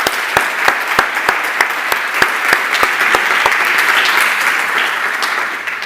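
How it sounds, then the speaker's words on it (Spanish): Audience applause for sign language interpreters at a talk on disease prevention and early detection, steady dense clapping with a few sharp louder claps punctuating it, continuous and fairly loud throughout. "un aplauso para ellos, por favor"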